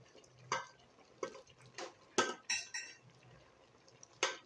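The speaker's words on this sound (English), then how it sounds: "so I'll go ahead to add my beans to it." Cooked beans added to a pot of cooked yam with the heat off, giving a series of soft spoon clinks and wet plops against the pot, about seven separate hits spaced irregularly, close but fairly quiet.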